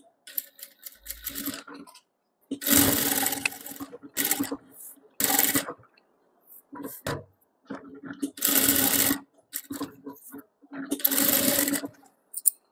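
A sewing machine stitches blouse lining in several short bursts of rapid mechanical chatter, separated by quiet pauses and faint handling sounds.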